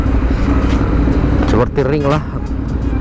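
A Ducati motorcycle idles and creeps through a traffic jam, its engine rumbling low and steady under someone talking, with a short rev rising midway.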